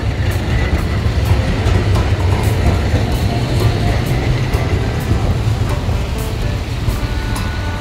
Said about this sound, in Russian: Трамвай меня не задавит.